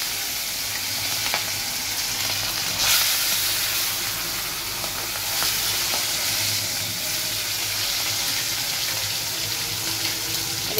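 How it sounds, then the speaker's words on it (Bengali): Hilsa fish frying in hot oil in a wok, a steady loud sizzle and crackle that runs the whole time with a few small pops, close and continuous. "ফার্স্টে মাছগুলোকে ভালো করে ভেজে নেবো"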